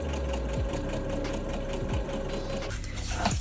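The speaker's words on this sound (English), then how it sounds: "now we can simply sew a straight line here to" A sewing machine stitches a straight seam on the sleeve of a Christmas dress, a steady, loud, close mechanical whir that runs without a break for the whole stretch.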